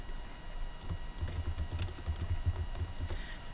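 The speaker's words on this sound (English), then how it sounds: "So I can type in my comment and press the comment button." Keys clatter on a computer keyboard while a comment is typed into a shared document, a steady run of light, close clicks with no talking.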